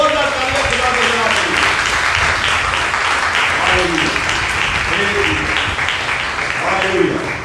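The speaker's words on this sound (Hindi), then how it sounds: "ओ जोरदार तालियां बजा दो यार।" A church congregation applauds steadily throughout during a sermon, a dense wash of clapping that holds at an even, fairly loud level while a voice keeps speaking over it.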